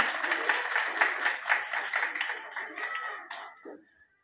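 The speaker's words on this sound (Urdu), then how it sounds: "آپ سب ان کے لیے بھرپور تالیاں بجاتے ہیں۔" Children at a Quran academy give a visiting guest a burst of applause, many hands clapping briskly before the sound quickly thins out and stops.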